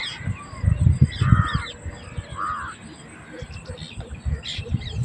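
Crows caw a couple of times at a distance as they return to their nests, over a low, rumbling outdoor riverside background with some indistinct voices.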